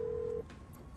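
A telephone sounds with a single steady electronic tone lasting under half a second, then cuts off over a faint background hum in a comedic Turkish potato-chip commercial.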